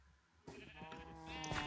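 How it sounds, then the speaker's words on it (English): A sheep on a Minecraft-style video game farm bleats once, a drawn-out wavering call that swells louder toward the end, heard alone after a brief quiet start. "Sheep,"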